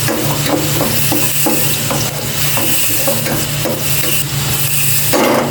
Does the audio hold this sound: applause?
no